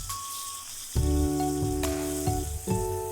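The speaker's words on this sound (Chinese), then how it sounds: "锅中加1勺食用油，等到油热冒烟，下入切好的豆腐" Tofu pieces hitting hot oil in a pan, each sudden sizzling burst followed by a steady crackle, with several clattering contacts close by.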